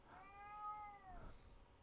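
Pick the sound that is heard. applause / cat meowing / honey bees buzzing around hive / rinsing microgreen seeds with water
cat meowing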